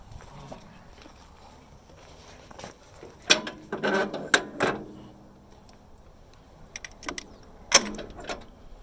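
The magneto impulse coupling on an F 30 engine snaps as the engine is rolled over by hand, giving a few sharp, close clicks separated by pauses amid quiet handling noises.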